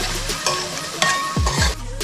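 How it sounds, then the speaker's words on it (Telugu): Ginger frying in oil for a Telugu fish curry tempering, a steady close sizzle with a few scraping stirs of a spoon against the pan, and no talk. "కొంచెం అల్లం వేసి మంచిగా ఎర్రగా ఫ్రై అయ్యే వరకు, అంటే బ్రౌనిష్గా ఫ్రై అయ్యే వరకు ఫ్రై చేసి"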